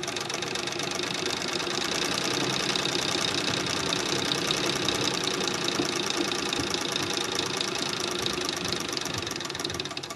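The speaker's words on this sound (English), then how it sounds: "We're going to sew. I have a double layer of fabric. Slip it under, lower the presser foot, and the wheel comes forward." A Singer Model 66 parlor treadle sewing machine stitches through a double layer of fabric, giving a steady, continuous fast mechanical chatter at close range with no talking.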